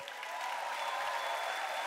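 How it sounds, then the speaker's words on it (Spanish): Concert audience applauding at an unplugged show, a steady dense wash of clapping that holds level and fairly loud throughout, with no voices standing out. "Fuerte aplauso, por favor."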